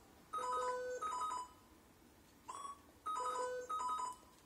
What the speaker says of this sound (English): It's a straight up cell phone sound.